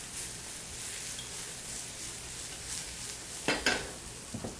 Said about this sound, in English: I'm going to check on these mushrooms, give them a little swirl